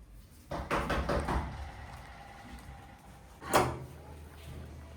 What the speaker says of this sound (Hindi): दरवाजा खटखटा रहा है, चल जल्दी।